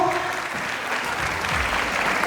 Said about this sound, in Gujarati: એવા હાથ તાળીના નાદથી